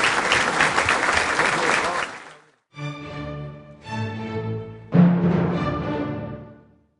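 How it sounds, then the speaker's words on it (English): A studio audience on an Illinois public-affairs programme gives a short, dense burst of clapping for about two seconds, then it cuts off and tonal music chords follow. "How about a round of applause for our"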